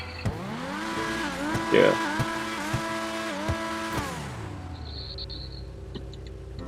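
A Progen GP1 race car engine in GTA, steady engine tones that rise and shift as the car takes off, with a brief tire squeal. A person speaks briefly over it.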